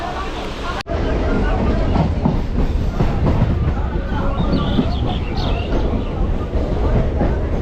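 The first after-midnight Barddhaman-bound local train rolls into Bandel station, its steady clickety-clack of wheels on rail joints loud and continuous under faint passenger chatter, with one sharp knock near the start.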